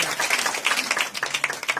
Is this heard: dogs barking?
no